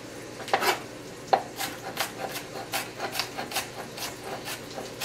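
A knife chops quickly and repeatedly on a cutting board while mincing onion. The light rhythmic taps are close, begin with a couple of sharper strikes and then settle into a steady run, with no talking.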